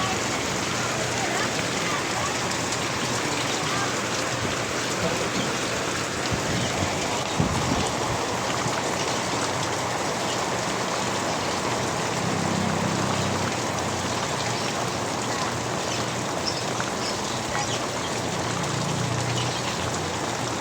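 Steady heavy rain pours down continuously on a vegetable market, a dense hiss with no letup, faint voices buried underneath.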